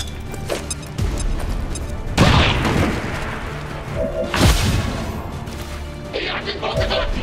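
A grenade blast in the XCOM 2: War of the Chosen strategy game, heard as two heavy booming bursts over a busy stretch of in-game noise.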